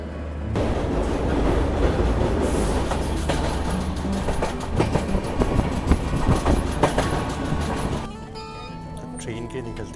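Kalka–New Delhi Shatabdi Express rolling along on Indian rails, a steady loud rumble with clickety-clack wheel beats heard from inside the coach, fading to a quieter interior hum near the end.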